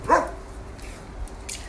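A Mexican hairless dog lets out one sharp close bark at the start, followed by quieter ambient noise with faint sounds that may be more dogs.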